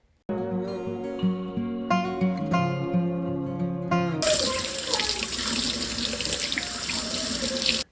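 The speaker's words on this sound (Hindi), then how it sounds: "वाटर फिल्टर को पहले ऐसे टैप वाटर में, ठंडे पानी में 15 सेकंड के लिए आपको उसको वॉश करना होता है" A water filter is rinsed under a cold running kitchen tap, giving a steady close splashing stream whose tone shifts to a broader, hissier rush partway through.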